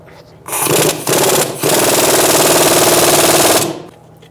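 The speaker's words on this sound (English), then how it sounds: "using an 18mm socket, we're going to take out this pinch bolt" An 18mm socket on a power tool rattling out a strut pinch bolt on a 2000-2007 Ford Taurus 3.0L V6, a loud continuous hammering buzz of about three seconds with brief stutters at the start.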